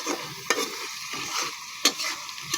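Fish fries in a pan under a running sizzle while a utensil stirs it, with two sharp scraping knocks and a few softer stirring movements over the hiss, close and clear, no speech.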